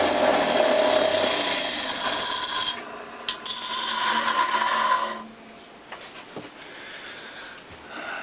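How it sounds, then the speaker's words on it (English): A pickaxe's narrower edge is sharpened with a rasping, grinding stroke that runs steadily for several seconds, then stops and gives way to quieter scraping and handling noises close by. "I'm going to sharpen the narrower edge so that the wider edge will be at the top"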